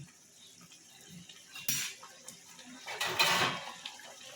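A metal lid is set onto a cooking pot with a couple of clanks and a scrape, amid faint kitchen clatter and a soft simmering hiss.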